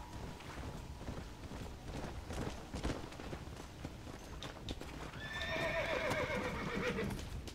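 Hooves clip-clop in a steady walking rhythm from a horse in the western video game Red Dead Redemption: Undead Nightmare, then a loud, drawn-out neigh rings out near the end, with no voices.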